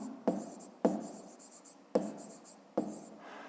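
Pen strokes on paper during a Grade 5 maths exercise, four distinct scratchy bursts of writing at a steady pace, close and fairly quiet, with no talking.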